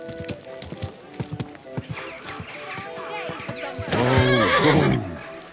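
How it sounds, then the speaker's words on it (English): Hooves clop along in a light rhythm in the video game Kingdom Come: Deliverance II, then a horse neighs loudly near the end, its call shaking and falling off. "Easy, good horse."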